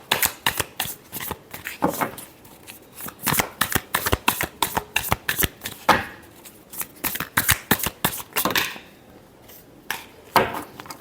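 Tarot cards being shuffled in rapid, close, crisp bursts of riffling and slapping, repeated steadily with short pauses between rounds.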